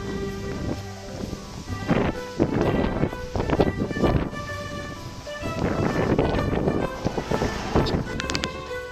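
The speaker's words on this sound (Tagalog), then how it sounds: "Ang hangin." Wind buffeting a microphone in rumbling gusts that rise and fall during a ride on a climbing road, with a low continuous drone running underneath.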